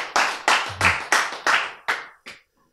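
Listeners at a Bible lecture clap together in a slow, even rhythm. About eight sharp, unison claps land roughly every half second, and the last one trails off.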